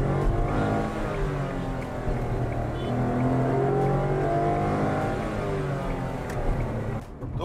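A Nissan Magnite EZ Shift car pulls away from a standstill with a steady, moderately loud engine drone that builds slightly as it accelerates, heard without talk.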